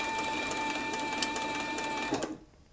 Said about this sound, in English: As you can see, this machine has plenty of power, and it'll really travel if you want to go ahead and floorboard it.